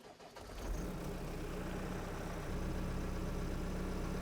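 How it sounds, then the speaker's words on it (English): A CASE backhoe loader's diesel engine cranks over and catches, then settles into a steady, low idle that continues without a break, heard from close by. "so we are good to start the engine."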